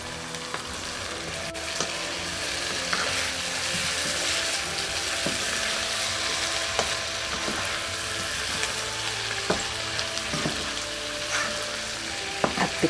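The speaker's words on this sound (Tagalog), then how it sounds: "Haluin natin." Carrot and other vegetables frying in a pan, seasoned with pepper, sizzle steadily up close while a utensil stirs them, scraping and clicking against the pan at irregular intervals, with no talking.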